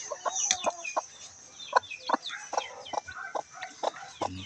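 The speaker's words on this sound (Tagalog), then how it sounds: "may sisiw na guys" Newly hatched chicks peep in quick, high, irregular chirps close by, with a steady stream of overlapping calls and no voices.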